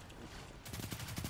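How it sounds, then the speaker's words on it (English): Rapid gunfire erupts in a video game after a brief quiet moment, a quick string of close, punchy shots, faint in overall level and very short. "We're gonna get shot down by a shotgun."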